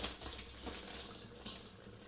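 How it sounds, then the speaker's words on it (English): Boiled hand-cut Chinese noodles strained like pasta, hot water pouring and splashing steadily through a strainer into a sink, a continuous close rush for about two seconds with no voices. "They are ready, just strain them like pasta."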